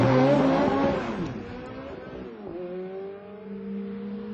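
Ferrari F430 launch control start, its engine revving hard and loud at first, then dropping back and pulling through steady rising gear tones, close and with no speech.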